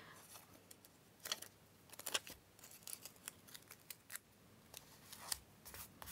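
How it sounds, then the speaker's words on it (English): Small scissors snip around a paper leaf shape for a junk journal collage, a series of soft, close, irregular crisp clicks and short cuts with pauses between, quiet and without talk. "I'm just fussy cutting this leaf shape out a little bit more"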